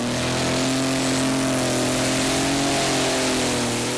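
A tractor-pulling tractor's 1500-horsepower Case 8.3-litre engine roars continuously at high revs at a tractor pulling championship, loud and close, its pitch holding steady with a slight rise toward the end.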